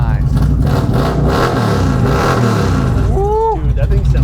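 A custom bagger motorcycle engine revs loudly up close with a deep, rumbling roar, while people talk over it.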